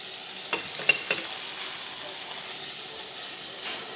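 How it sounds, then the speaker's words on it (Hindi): Chopped tomatoes go into a pan of frying potatoes and peas for aloo matar, giving off a soft, steady sizzle with a few sharp utensil clinks near the start. "और अब इनको भी साथ डाल के आपने भूनना है।"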